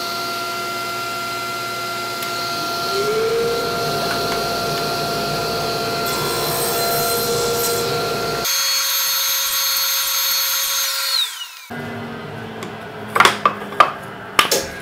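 A power saw cuts wooden rails for an armoire, giving a steady machine whine and hum that shifts in pitch partway through and ends with a few sharp knocks.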